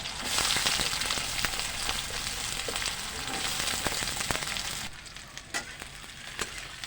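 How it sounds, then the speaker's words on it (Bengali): Loud, steady sizzling of onions frying in hot oil, a dense crackling hiss that drops somewhat quieter near the end, with no voices. "পেঁয়াজগুলো দিয়ে দিচ্ছি তেলের মধ্যে।"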